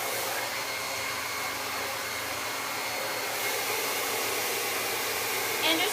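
A hair dryer blows a steady, loud rush of air while hair is being styled and rolled, running continuously close by with no talking.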